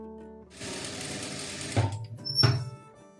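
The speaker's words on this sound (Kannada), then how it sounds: "ಆ ಪೀಸ್ ಮೇಲೆ ಈ ಬಟ್ಟೆನ ಮಲಗಿಸಿ ಒಂದು ಟಾಪ್ ಸ್ಟಿಚನ್ನ ಹಾಕೋಬೇಕು" Sewing machine top-stitching fabric for a pleated petticoat, running in short, close whirring bursts.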